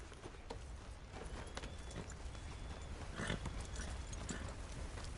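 Hooves of a horse clip-clop steadily in a video game, a continuous walking rhythm over muffled ambient noise, fairly close and moderately loud, with no speech.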